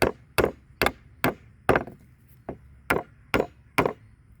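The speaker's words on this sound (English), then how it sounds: "I'll just take a hammer" Sharp hammer blows on nails in a wooden pallet board, about ten evenly spaced strikes in a steady rhythm, close and crisp with no talking.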